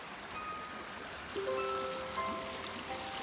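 A forest stream flows in steady, close rushing water at a rest spot on its bank during a jungle trek, with faint tonal chirps over it and no talk.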